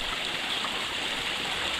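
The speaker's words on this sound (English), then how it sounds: "A nice little brook right here." A small mountain brook in the White Mountains of New Hampshire near Lonesome Lake, an unfrozen winter stream giving a steady close rushing babble of flowing water.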